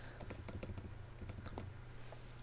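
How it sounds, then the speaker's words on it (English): Faint, quick, irregular clicks of typing on a computer keyboard, with soft keystrokes close together under a low steady hum. "So if I click on this now and start typing"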